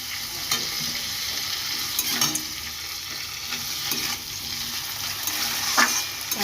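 Potatoes frying with sugar in a pan give off a steady, close hiss, with occasional scrapes and taps of stirring throughout.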